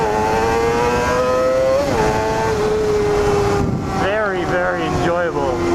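Engine of a Honda CBR250RR motorcycle, a high-revving 250cc sport bike, climbing steadily in pitch as it accelerates, with brief dips at gear shifts and continuous wind noise underneath.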